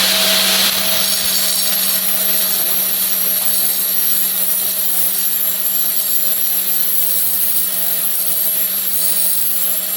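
A grinding disc runs steadily against the teeth of a stump grinder, giving a continuous, loud, high-pitched abrasive whine with an even tone for the whole stretch and no speech.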